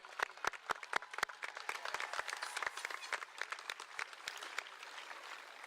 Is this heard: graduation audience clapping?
yes